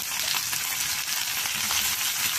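Drumstick and brinjal pieces sauté in hot oil in a pan, giving a steady, close sizzle with a soft crackling texture throughout.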